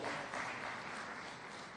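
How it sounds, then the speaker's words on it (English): A live audience applauds a speaker at a political meeting with young members of parliament, a dense, steady wash of clapping that holds evenly throughout, fairly distant with no voices on top. "Please clap for our Speaker."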